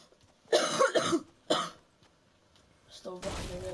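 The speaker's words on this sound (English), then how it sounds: "Still got a really bad cough." A person coughs in a few harsh bursts, a double cough followed by a single one, loud and close, then a brief voice and a burst of background noise.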